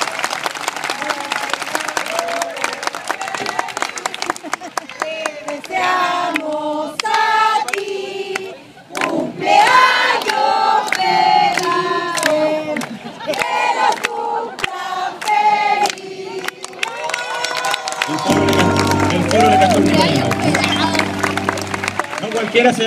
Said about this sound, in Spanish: También se merece otro aplauso, ¿no es cierto?